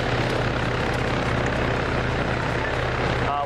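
Steady, loud helicopter rotor drone with a low engine hum, constant throughout, ending with a brief tonal beep near the end; a helicopter in the video game Arma 3.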